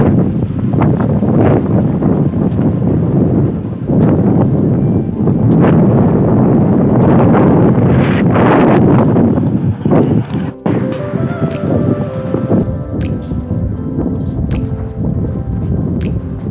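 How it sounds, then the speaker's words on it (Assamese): Strong wind buffeting the microphone outdoors on a roadside in Uttarakhand, a loud continuous rumbling roar that eases slightly near the end. "ইমান বতাহ দিছে"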